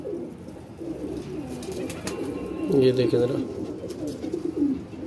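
Slate-grey pigeons coo in low, rolling bursts at close range, loudest around the middle, while someone talks over them throughout.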